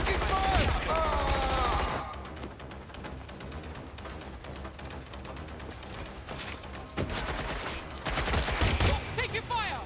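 Gunfire in Watch Dogs Legion crackles as a dense, continuous fusillade of shots with music and game effects, growing louder and heavier near the end.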